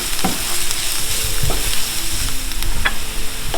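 Garlic, about two tablespoons, frying in a pot for spicy beef and pork noodle soup broth, a loud continuous sizzle with occasional clanks and scrapes of stirring, no voices.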